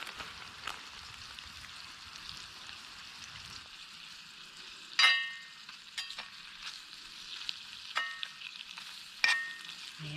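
Spinach frying in a pan over a campfire at a camping supper: a continuous faint sizzle and crackle, broken by a few sharp clinks and scrapes from stirring.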